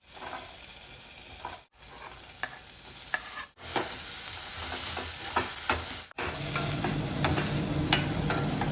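Green chillies and onions fry in a hot, thin-bottomed pan, a continuous close sizzle broken by short pauses and rising toward the end, with stirring scrapes throughout.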